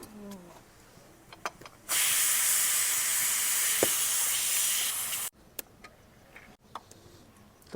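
A pressure cooker with potatoes vents steam in a loud, continuous hiss lasting several seconds, then cuts off, with clicks and faint voices before and after.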